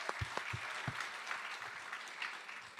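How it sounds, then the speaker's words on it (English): Crowd applauding for Ohio at a twenty one pilots event, steady dense clapping throughout with a few louder claps and faint cheers and voices mixed in. "you can applaud for Ohio"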